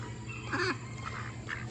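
Ducks quacking outdoors in a garden, a few short nasal calls, one louder quack followed by softer ones, at moderate distance over a low background hum.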